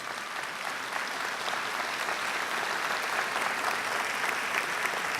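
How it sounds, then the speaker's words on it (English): Applause at a KCC graduation ceremony, a broad, even wash of many hands clapping throughout the hall, sustained for several seconds at a fairly distant level. "Let's give them a round of applause."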